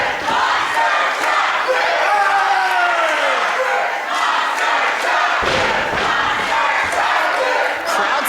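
A live wrestling crowd in Florence roars and yells in a steady, dense wall of cheering and shouting, split between wrestlers, with thuds and voices mixed throughout.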